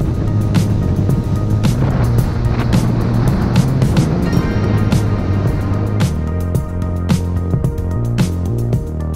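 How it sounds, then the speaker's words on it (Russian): A motorboat runs at fairly high speed across an estuary, its engine droning steadily and loudly the whole way, with a shift in the engine note partway through. "На небольшой лодочной станции сели в катер, который минут 15 вез нас по лиману с довольно высокой скоростью."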